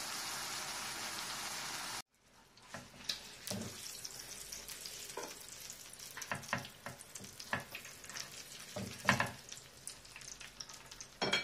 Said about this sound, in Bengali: হয়ে গেল আমার রূপচন্দা মাছ ভাজি।